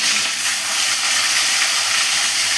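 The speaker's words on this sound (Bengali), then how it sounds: "মাছের মাথাটাকে লাল লাল করে ভেজে নেব, একদম ভেজে উঠিয়ে নেব।" A fish head frying in hot oil, giving a steady, dense hiss that holds evenly and fairly loud throughout, with no pauses.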